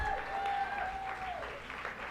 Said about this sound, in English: Can we just give a special round of applause for democratic values?